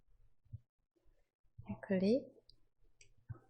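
Computer mouse clicking on the Windows taskbar: a few sharp, quiet clicks scattered across a short stretch, with a voice speaking briefly in the middle.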